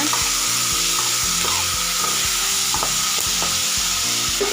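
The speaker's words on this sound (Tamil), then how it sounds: "ஒரு மூணு தக்காளி வந்து கட் பண்ணி வச்சுருக்கேன் அதையும் வந்து இது கூட சேர்த்துக்கோங்க" Chopped tomatoes land in a pan of sautéed onions for a goat leg gravy, setting off a steady, close sizzle and frying hiss with soft stirring scrapes and clinks throughout, no voices.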